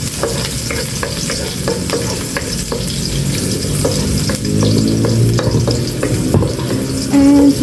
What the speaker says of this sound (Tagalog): Igisa ko na po itong bawang.